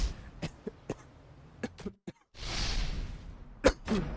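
Several sharp coughs and throat-clearing bursts from an esports caster at a mic, spaced irregularly, followed by a longer breathy exhale and one more cough near the end, close and moderately loud.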